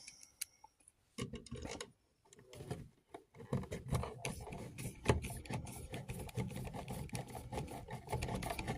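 Screws are driven into a tamper-proof USB outlet cover, a close, quiet run of irregular clicks and ticking taps with short pauses, growing busier and more continuous after the first few seconds.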